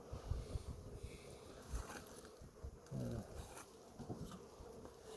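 Steady buzzing of many young honey bees swarming close by, a continuous droning hum with occasional louder passes and soft handling noises.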